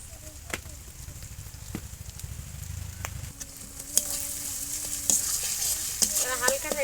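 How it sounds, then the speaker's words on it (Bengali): Spice paste frying in a pan with chopped tomatoes, turmeric and salt for a rohu fish bhuna, a soft steady sizzle under repeated stirring scrapes, growing a little busier toward the end. "মশলাটা ভালো করে ভেজে নেব।"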